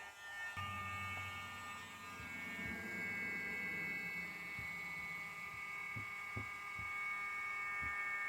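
A Dremel rotary tool hums steadily while grinding a dog's nail, with faint soft knocks and thumps scattered beneath the whine.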